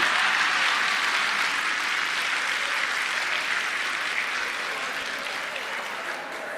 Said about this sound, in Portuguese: Agora você pode aplaudir, porque eu não estou falando de você.